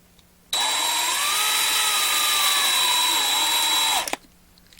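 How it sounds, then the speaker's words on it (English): A power drill whines steadily for about three and a half seconds, drilling into metal on a 1/64-scale NASCAR toy car, its pitch dipping slightly as it bites in, then stops abruptly. "Let me drill this out and see if I can explain it even better."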